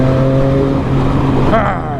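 A Triumph Street Triple R motorcycle engine revs up briefly with a rising whine, close and loud, over a steady low rumble.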